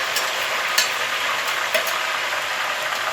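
Hot oil sizzling steadily in a pan as kachenna herbal hair oil is cooked, a continuous close frying hiss with a few faint clicks and pops and no talking.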